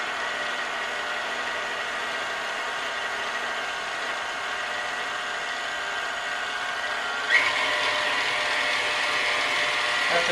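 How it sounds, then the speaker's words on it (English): An electric stand mixer whirs on low speed while mixing holiday bread dough, a steady mechanical hum with a tonal whine, and the pitch and brightness jump up partway through as the speed changes. "Turn your mixer on low at first to incorporate some of that."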